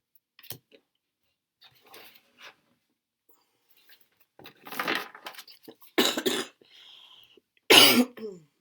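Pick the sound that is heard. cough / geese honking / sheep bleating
cough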